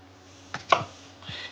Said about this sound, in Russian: Разрежем на 4 части